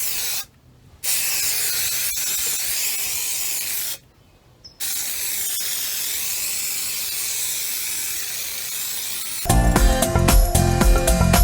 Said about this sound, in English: I'm going to spray both pieces with this 3M adhesive, high strength